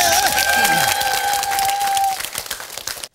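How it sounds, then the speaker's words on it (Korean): An audience claps to welcome a performer at a Korean changgeuk staging of Heungbo-jeon. Sustained tones ring over the start, then scattered, fading claps are left alone at the end. "그럼 큰 박수로 모시겠습니다."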